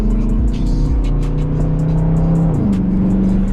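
Dodge Challenger Hellcat V8 running close by, a loud steady rumble with low harmonics that shift pitch midway as the engine revs, heard alone with no talk.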